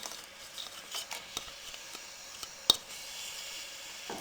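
Halwa with chopped dates is stirred in a pot, with soft repeated scraping and squelching strokes over a faint sizzle and one sharper knock of the spoon, close and quiet.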